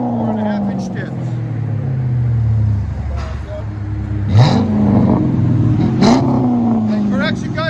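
A Chrysler 300C with a 5.7 L HEMI V8 and Carven TR mufflers idles with a deep rumble, then gives two short revs that swell and fall back. A person talks over the engine throughout.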